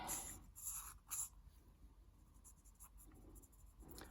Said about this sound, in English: I'm just using a mechanical pencil.